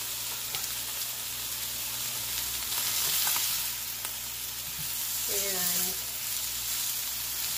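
Chicken pieces for coconut chicken fry steadily in a pan over medium heat, a continuous close sizzle running throughout, with a brief spoken word and a few light utensil clicks over it.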